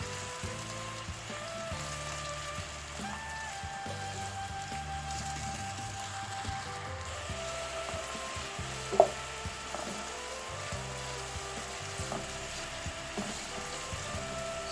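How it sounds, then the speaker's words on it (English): Onion and garlic stir-frying in a pan for chicken vegetable fried rice, a soft, steady sizzle with faint crackles and one sharp click of a utensil against the pan. "So I'm going to stir fry this for 2 minutes before adding the rest of the ingredients"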